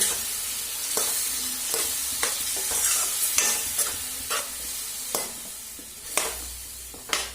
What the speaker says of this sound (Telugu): వేసేసి ఇలా నిమిషం పాటు కలపండి